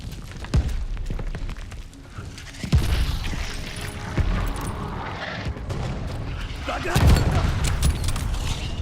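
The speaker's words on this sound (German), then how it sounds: "Was für Geschütz? Geschütz schon wieder." A gun emplacement in Call of Duty: Vanguard fires heavy booming shots at irregular intervals, with battle noise rumbling between the blasts.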